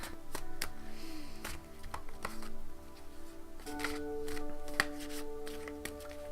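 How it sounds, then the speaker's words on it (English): A deck of tarot cards being shuffled in repeated bursts of riffling and tapping, close and fairly quiet, with a faint steady hum underneath and no talking. "Alright, just a few more shuffles."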